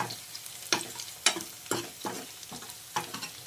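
Curry leaves and two bay leaves sizzle in hot oil with browned onion, stirred in regular strokes that bring sharp scraping spikes over a steady frying hiss.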